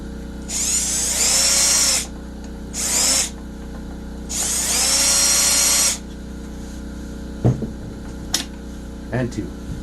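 A power tool backs screws out of a Stihl BR 600 backpack blower's carburetor housing in three close, loud whirring bursts, followed by a few light clinks of parts.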